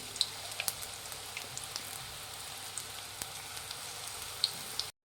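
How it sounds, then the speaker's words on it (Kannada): Battered onion rings deep frying in hot oil for crispy tea-time snacks, giving a soft, steady sizzle with scattered sharp pops and crackles, close but fairly quiet, with no talking. "ಇದು ಕ್ರಿಸ್ಪಿ ಆಗೋವರೆಗೂ ಡೀಪ್ ಫ್ರೈ ಮಾಡಬೇಕಾಗುತ್ತೆ ಎಣ್ಣೆಯಲ್ಲಿ ಸ್ವಲ್ಪ ಸ್ವಲ್ಪನೇ ಹಾಕಬೇಕಾಗುತ್ತೆ"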